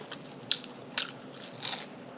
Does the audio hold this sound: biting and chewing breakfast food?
yes